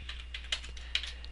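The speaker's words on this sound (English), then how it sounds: "I'm going to type in my name" Quick, light keystrokes on a computer keyboard while a name is entered in Microsoft Word 2003, a close, irregular run of clicks with two sharper taps standing out.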